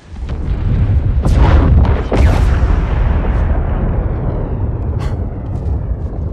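Heavy, booming explosions from a barrage weapon in a Star Wars video game, with two loud blasts early on followed by a sustained rumbling roar and a sharp crack near the end.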